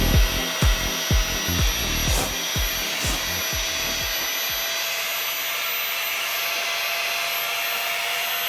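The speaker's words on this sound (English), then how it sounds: "you can kind of hear the pitch of the pump change, so it's nearing pretty much maximum" A Giga Pump 2.0 electric pump inflates an air mattress, giving a steady broadband whir with rhythmic low thumps for about four seconds before settling into a smoother, even drone.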